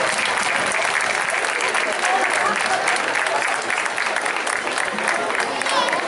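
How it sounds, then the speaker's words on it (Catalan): Continuous, loud crowd applause at an outdoor Sant Jaume d'Enveja festivity, a dense unbroken roar of many hands clapping with cheering voices mixed in throughout. "Un aplaudiment. Vinga, va."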